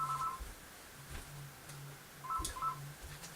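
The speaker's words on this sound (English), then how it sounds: "Apologies, my phone is going off." A mobile phone goes off indoors with a short electronic ringtone: two quick bursts of beeping tones separated by a pause, moderately quiet and alone.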